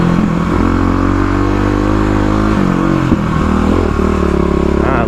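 A 35 hp Kawasaki KLX351 dirt bike rides off road on a trail, its engine loud and close throughout, revving and shifting pitch with clattering bumps and no speech.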